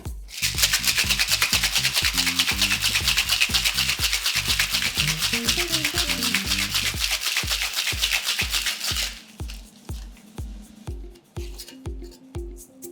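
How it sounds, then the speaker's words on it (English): Ice shaken hard in a two-piece cocktail shaker tin for a gin gimlet, a loud rapid rhythmic rattle and clatter that runs continuously, then drops to softer, spaced knocks near the end. "Pop the two halves of your shaker tin together and shake as hard as you can."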